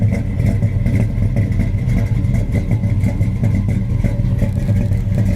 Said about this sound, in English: Again, it's that super nice sounding engine.